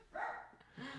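A dog in a home during a livestream gives a couple of short, faint barks about a second long, heard on its own without talk.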